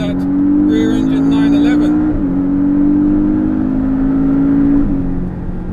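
A Porsche 718 Boxster with a mid-engine layout drives on Yas Marina Circuit, its engine holding a steady loud drone with two brief dips as gears change, heard from inside under a voice.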